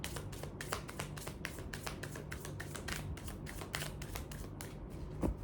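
Tarot cards are shuffled and handled in a quick, steady run of crisp riffling snaps and taps, close and fairly soft, with no talking.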